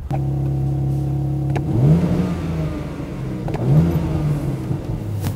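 A BMW M3 Touring Competition's exhaust idles with a low burble, then two sharp revs rise and fall close by, with no talking.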